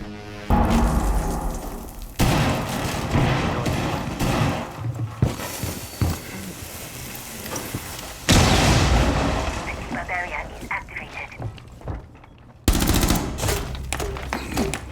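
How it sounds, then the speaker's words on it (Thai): Explosions and rapid gunfire from the video game Rainbow Six Siege, loud and dense throughout, with booming blasts and bursts of shots, a brief drop near the middle-end before another loud burst. "โอ้โหระเบิดระเบิดระเบิด"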